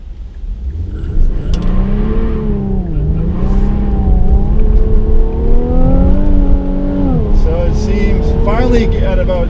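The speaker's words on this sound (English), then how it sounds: "we'll see how rear-wheel drive performs when you're really pushing a vehicle hard in the wet" An Infiniti Q60 3.0T with rear-wheel drive accelerates hard on a wet road. The engine note rises and dips loudly as it revs, close and continuous throughout.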